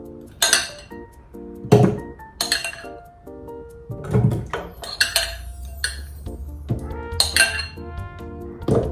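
Several sharp clinks and clatters of smoothie ingredients such as grapes and strawberries dropped into a glass blender jar, irregularly spaced, with a short scraping sound midway and no speech.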